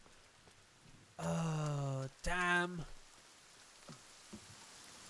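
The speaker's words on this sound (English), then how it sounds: "Oh god, it is raining, isn't it?" Rain falling in the survival video game The Forest, a steady soft hiss beneath a man's loud groaning exclamation and a few faint ticks.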